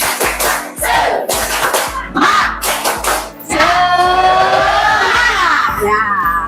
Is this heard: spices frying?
no